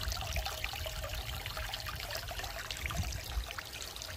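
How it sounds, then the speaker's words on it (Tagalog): Water flowing steadily outdoors in Japan, a continuous rushing trickle filling the clip close by and fairly loud, with no talking. "Umumuga yung tubig."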